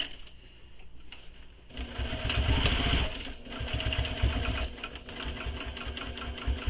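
A sewing machine stitches a backpack, its motor running in a steady rapid chatter that stops and restarts, with a brief pause before a louder burst of continuous stitching.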